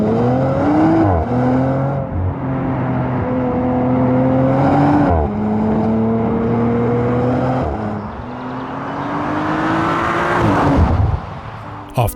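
A 2022 Audi RS4 drives hard along quiet country roads, its engine climbing through the revs and dropping at each gear change, loud and steady up close with road noise and no talking.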